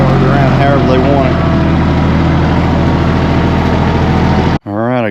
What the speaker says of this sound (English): Let me shut this truck off